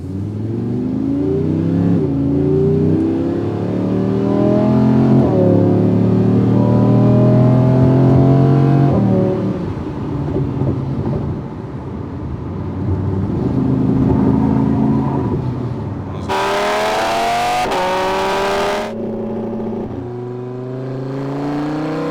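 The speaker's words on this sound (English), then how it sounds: "That was a 2023 Audi R8 with the F1 style exhaust, full titanium, sound sick." A 2023 Audi R8 engine with a full titanium F1-style exhaust revving hard in repeated loud, rising bursts with crackling exhaust, close by, the pitch climbing and falling between throttle blips.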